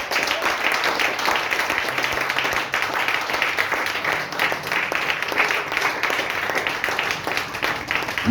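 A church congregation applauds and cheers at length during a sermon, with steady dense clapping and crowd noise filling the space throughout.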